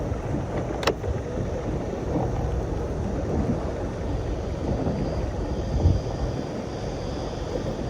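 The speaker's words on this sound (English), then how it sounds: "Bit breezy." Steady wind blows across the shore at Botany Bay during a fishing trip, a constant broad rushing buffet on the microphone with no clear gusts and no one speaking.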